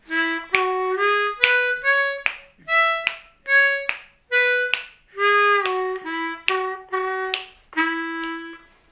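A blues harmonica plays a major pentatonic lick as a series of about a dozen short, clear, separated notes with breathy attacks, close and alone with no talking.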